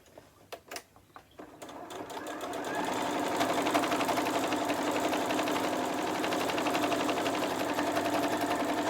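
A sewing machine runs steadily as it stitches around the four sides of a quilted star place mat, starting after a few short clicks and holding a loud, even whirring drone.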